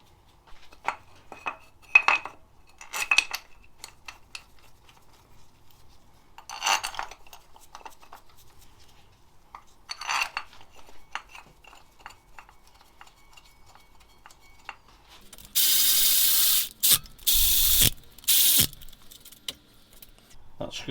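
Metal part being screwed onto a fabricated bracket in a workshop, sparse small clicks and metallic clinks with quiet gaps, then a burst of loud broadband rasping near the end, no talking.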